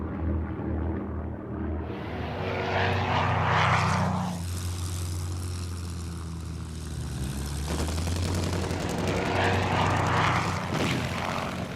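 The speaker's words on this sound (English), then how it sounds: "RAF fighters, vectored into position by ground controllers, attack out of the sun." WWII RAF fighter aircraft attacking, their propeller engines roaring as planes swell close and pass overhead, then a second loud pass follows, with a deep rumble throughout and no talk.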